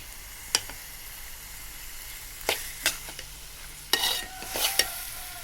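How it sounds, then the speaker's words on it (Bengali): Taro greens stirred in a cooking pot, a handful of sharp, close spoon scrapes and knocks scattered over a faint, steady sizzle, clustered more toward the end. "একটু ঘন ঘন নাড়তে হবে"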